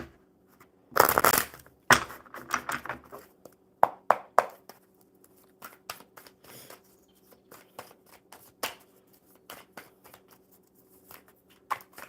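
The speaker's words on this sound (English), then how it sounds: "One more good shuffle, and we'll start this card pull." A deck of cards being shuffled, a loud riffle burst early, then repeated softer bursts of card flicks and taps.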